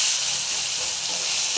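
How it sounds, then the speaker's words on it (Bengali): Green peas tipped into hot oil in a kadai for a kachori filling, giving a loud, steady, close hiss that holds evenly through a brief moment without talk. "আর দেখো গরম হয়ে গেছে, আমি এবার কড়াইশুঁটিটা দিয়ে দিলাম"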